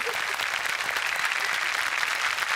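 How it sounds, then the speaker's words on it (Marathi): A comedy show audience gives steady, dense applause from start to finish, a continuous crackle of many hands clapping at an even level. "टाळ्या त्यांच्यासाठी जोरदार."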